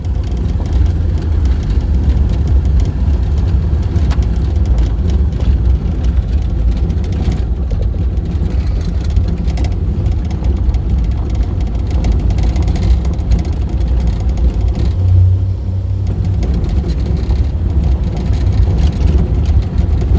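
A 1972 Fiat 850 Sport Convertible, a barn find after 22 years of sitting, driving downhill in second gear, its small engine giving a loud, steady, close drone with road rumble throughout and no talk.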